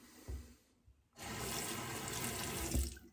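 Water from a tap runs steadily into a sink to rinse a safety razor, a strong continuous splashing after a few soft handling knocks and a brief quiet pause.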